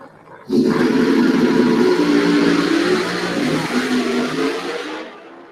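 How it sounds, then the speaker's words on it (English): Two funny car drag racers, a Dodge Challenger among them, launch and roar down the drag strip in qualifying, a loud sustained engine blast that starts abruptly and slowly fades as they pull away. "Both cars in a hurry down the racetrack"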